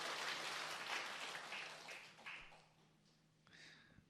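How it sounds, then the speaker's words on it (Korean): A church congregation applauds to welcome a person during a Sunday service: soft, fairly distant clapping from many hands, fading and then returning briefly with a few scattered claps. "박수로 한번 환영합니다"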